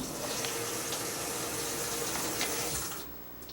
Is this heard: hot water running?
yes